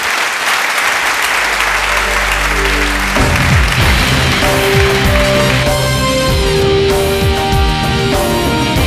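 A theatre audience gives a comedian a loud, dense round of clapping that runs unbroken from start to end, while bright music with a thumping beat joins partway through.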